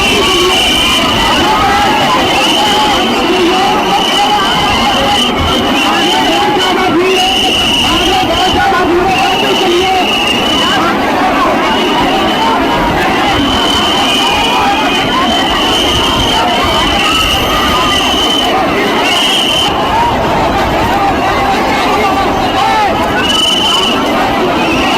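A dense crowd of pilgrims at the Mahakumbh 2025 gathering during the stampede, a constant loud roar of shouting and babble with whistles piercing through, unbroken for the whole stretch.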